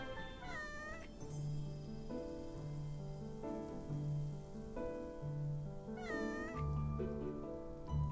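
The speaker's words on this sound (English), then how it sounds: "Do you remember the friend I mentioned? This is the cat." A cat meows twice, once near the start and again several seconds later, each call clear and drawn out over a steady tonal musical background.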